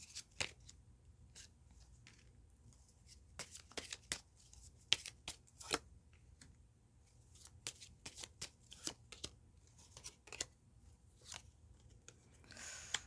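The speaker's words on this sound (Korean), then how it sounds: "그러면 이번 여러분들도 추가 카드를" Tarot cards being drawn and shuffled by hand during a love reading, a run of crisp, close riffling snaps and flicks in irregular bursts with quiet pauses between.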